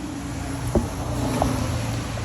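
A 2018 BMW 330i with its stock downpipe, before a catless install, idles steadily with a low, even exhaust drone and no revving, recorded close with wind-like noise and no talk.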